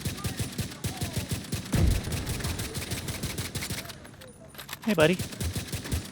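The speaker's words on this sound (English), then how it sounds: "it's a point-and-click machine gun" Rapid automatic rifle fire from The Division 2, a Merciless rifle build, rattles in a steady stream of close shots throughout, with a voice speaking briefly over it.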